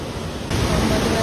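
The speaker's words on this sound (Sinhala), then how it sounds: "මං හිතන්නේ මේ ගලාගෙන යන්නේ රම්බඩ ඔය" The Rambada stream in Sri Lanka, on stage 4 of the Pekoe Trail, rushes by as a loud, continuous broadband roar of flowing water heard close, swelling slightly louder partway through.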